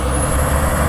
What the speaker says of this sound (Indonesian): Satu unit truk milik PT Siba Surya guys, VAW JH6.